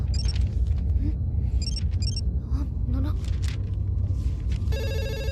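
A landline telephone rings in a movie comedy scene, its electronic bell trilling in short repeated bursts over a low rumble while voices talk underneath.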